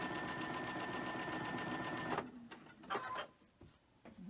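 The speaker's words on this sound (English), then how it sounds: "let's go ahead and sew that together" A sewing machine stitches a quilt top row together with a fast, even, humming run of stitches for about two seconds, then stops, leaving faint handling noises and rustles.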